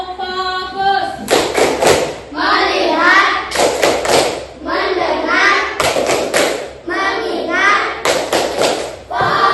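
A school class doing a rhythmic focus clap, bursts of sharp unison hand claps and table thumps alternating with children chanting words in time, loud and close.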